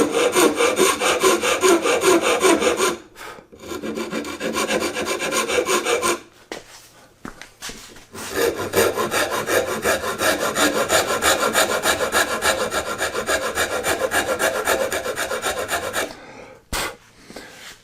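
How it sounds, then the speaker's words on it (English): A fine pattern maker's rasp chamfers the corners of a wooden trestle horse part at about 45 degrees, giving steady, close, rhythmic scraping strokes in long runs broken by short pauses. "what works best is a rasp, a fine pattern maker's rasp."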